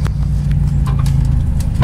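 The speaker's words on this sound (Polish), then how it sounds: "Na razie jedziemy właśnie trudne trasy tirem" A heavy truck drives a difficult delivery route into a company yard in Upper Silesia, Poland, its loud, steady low engine rumble continuing close and unbroken throughout.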